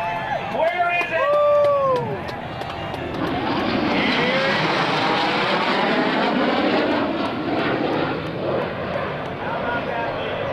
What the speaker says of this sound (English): the F-117 stealth fighter being piloted by Lieutenant Colonel J.J. Johnson